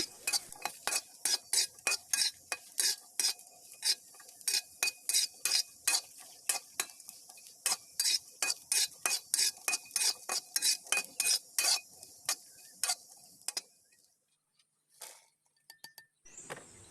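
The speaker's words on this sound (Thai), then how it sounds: "เดี๋ยวเราจะคั่วต่อไปเรื่อยๆ เพื่อให้ทุกอย่างสุกดีนะคะ" Shallots and garlic dry-roasting in a pan for an Isan chili dip, turned with quick, evenly spaced metallic clinks of a utensil on the pan, close and crisp, before the stirring stops and near silence follows.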